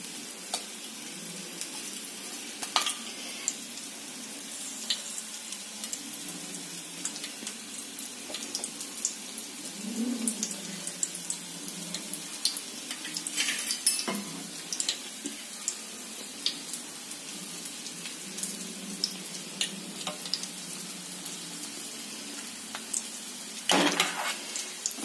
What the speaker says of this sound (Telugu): ఆయిల్ వేడెక్కింది మనం ఫస్ట్ ఏం చేసుకోవాలి అంటే ఎండుమిర్చి వేసుకోవాలి